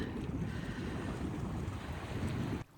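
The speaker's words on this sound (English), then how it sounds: "it's here where the wind really started to pick up" Strong wind roars steadily against the microphone, a dense buffeting rush that cuts off abruptly near the end.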